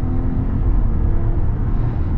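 A 2024 Jeep Grand Wagoneer Obsidian with a turbocharged engine under hard acceleration, a loud, steady low engine roar and road rumble heard from inside the cabin, with no voices.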